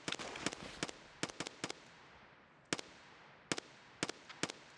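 Gunfire in Escape from Tarkov, a player firing at a scav: sharp, loud single shots and quick bursts of two or three, spaced irregularly over a low ambient background.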